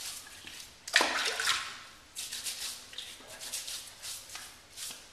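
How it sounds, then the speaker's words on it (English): Hot water running from a tap into a sink, a steady splashing flow with brief interruptions as hands move through it, close by. "wet my face, hot water from the sink"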